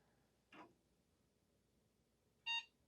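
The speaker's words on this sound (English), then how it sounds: "We have power, a couple beeps." Two short electronic POST beeps from an Acer desktop computer starting up, about two seconds apart, the second louder and more tonal, over a quiet background hum.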